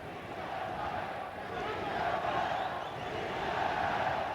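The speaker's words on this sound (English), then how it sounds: "The crowd trying to urge Chavez on" Arena crowd in the Fight Night boxing game, a steady low roar of massed voices urging a fighter on, moderately distant and continuous, with no single voice standing out.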